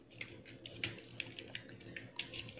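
Quiet, steady typing on a computer keyboard while writing HTML code for an Angular tutorial, a run of light, irregular key clicks at close range with no talk.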